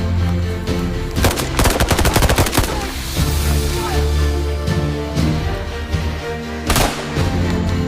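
Gunfire rings out in a battle scene, with rapid automatic bursts and single loud shots cracking over a continuous rumbling background, the fire coming in dense clusters with brief pauses between them.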